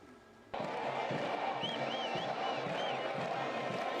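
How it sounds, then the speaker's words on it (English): Stadium crowd of Jordanian football fans celebrating their national team, a broad steady roar of cheering that swells in abruptly and holds, with whistles and scattered shouts rising above the mass of voices. "Thousands gathered to celebrate and cheer the Nashama player, the nickname for Jordanian football team"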